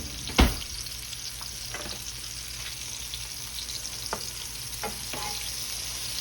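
Smothered hamburger steaks sear in a skillet with a steady, close frying hiss, one sharp clank near the start and a few faint scrapes of a utensil, with no voices.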